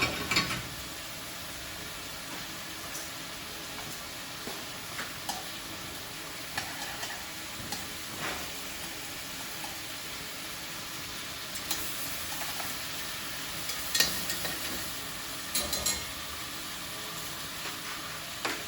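Sausage browning in a pot with pheasant and vegetables, a continuous moderate sizzle with scattered light scrapes and clicks of stirring, steady throughout.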